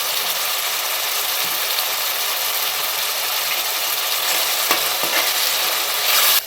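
Chopped tomatoes and turmeric go into onions frying in a pan, bringing a loud, continuous sizzle with scraping spatula strokes and a few clanks against the pan. No one speaks.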